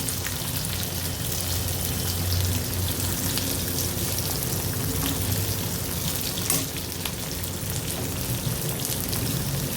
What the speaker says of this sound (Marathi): त्याच तेलामध्ये एक मोठ्या आकाराचा कांदा आबडधोबड कापून तो भाजून घेऊया.